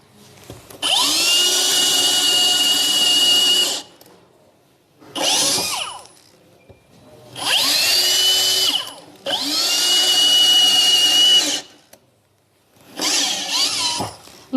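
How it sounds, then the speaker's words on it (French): A Hilti cordless drill-driver set to speed 1 whines in five separate high-pitched bursts of a few seconds each. The bursts are loud and close, with short quiet gaps between them and no voices. "Donc là, je passe ici pour percer."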